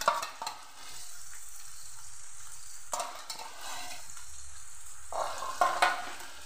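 Ginger-garlic paste goes into a pan of sliced pointed gourd for a tengra fish dish, bringing a close, steady sizzle with a few spoon knocks and scrapes, with bursts of louder frying at the start and near the end.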